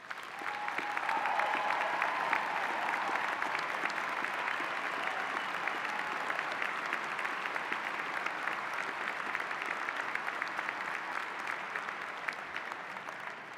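A commencement audience applauds military members standing among them: sustained, even clapping from a large crowd, moderately distant, running unbroken for over thirteen seconds.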